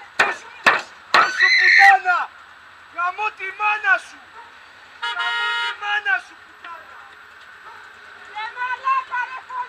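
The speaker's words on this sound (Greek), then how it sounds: "Μην κορνάρεις ενώ δεν έχει ανάψει το, ούτε καν το πράσινο." A car horn toots in a short burst at a traffic light on an amber signal, between raised voices talking and shouting nearby.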